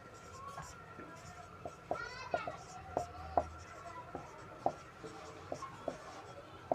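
Chalk or marker tapping and scratching on a board during a Class 10 physics lesson on light, reflection and refraction: a series of short, sharp strokes and taps spread irregularly through a quiet room.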